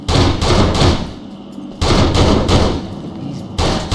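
Loud, close gunfire in the game Urban Chaos: Riot Response, rapid rattling bursts in clusters with a short lull in the middle, dense and punchy throughout.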